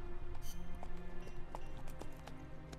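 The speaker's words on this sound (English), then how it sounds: "You're walking on a horse." Horse hooves clip-clopping at a walk in Metal Gear Solid: Peace Walker, a steady series of soft in-game hoof falls over a low background bed, fairly close, without talk.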